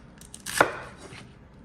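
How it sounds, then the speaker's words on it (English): A knife cuts paprika for a veggie stew in a single crisp chop. The blade strikes the board once with a sharp, close thunk, and a couple of faint taps follow. No voices are heard. "now I'm gonna cut the paprika"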